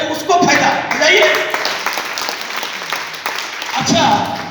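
Audience clapping at a Modicare seminar, loud bursts of applause rising and falling with a speaker's voice over the crowd.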